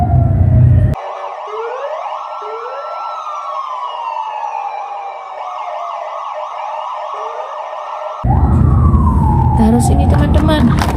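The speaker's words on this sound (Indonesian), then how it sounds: "Wah, ini mobil polisi." A toy police car's electronic siren wails in a rising and falling loop for about seven seconds, close and loud. Someone talks briefly just before and after it.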